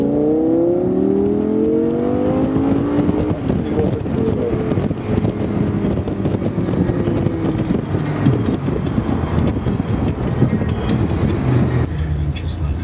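Audi R8 V10 Spyder engine roaring as the car drives, heard together with heavy wind buffeting, the engine pitch rising and then falling across the pass while a voice talks over it.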